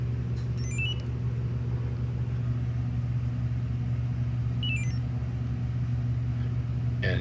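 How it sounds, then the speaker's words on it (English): A Mazda idles steadily after a remote start, a low continuous engine hum that stays constant throughout, with a couple of faint high electronic chirps over it. "Car's running."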